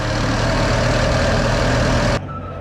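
A steady, loud boat engine drones at idle on a Cambodian lake, a dense low rumble that cuts off abruptly near the end, leaving quieter background noise.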